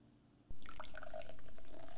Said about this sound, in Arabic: نضيف قليلا من الشاي إلى الأنبوب الذي يحتوي على الحامض.